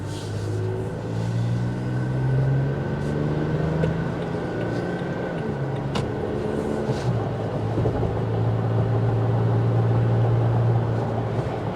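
A 2023 Toyota Tacoma TRD Sport driving on all-terrain tyres, a steady low engine drone with shifting rumble and a constant road hum from the tyres, heard from inside the cab with no talking.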